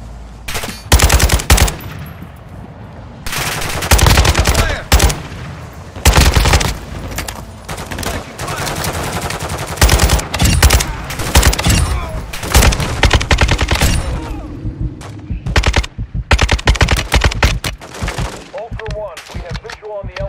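Rapid automatic gunfire in Modern Warfare 2, played online on PS4, with long machine-gun bursts and scattered single shots. Loud, near and repeated throughout, with pauses between volleys and brief radio-style voices in the background.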